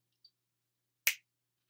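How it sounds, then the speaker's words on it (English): A single sharp finger snap lands near the middle, crisp and close, preceded by a tiny faint click, with silence otherwise. "I'm going to snap my fingers"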